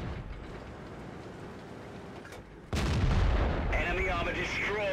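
Tank cannon fire from World of Tanks, with a Sherman Firefly engaging a Tier 6 American Hellcat tank destroyer: a heavy boom lands partway through over steady low battlefield rumble, followed by crackling debris and whining game effects.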